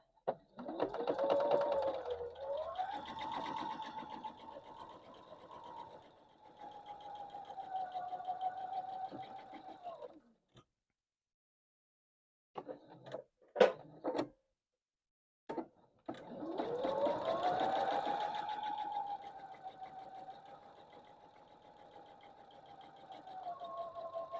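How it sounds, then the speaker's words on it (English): A sewing machine stitches a quilt block in two long runs of steady mechanical whirring, close and moderately loud, broken by a pause filled with brief clicks and handling noises. "Now I'm going to sew on the other side."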